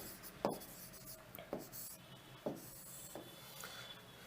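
A teacher writes on a board during a lesson, with four or five quick marker or chalk strokes, each a brief scratchy tap, heard close but faint over a quiet room hum and without speech.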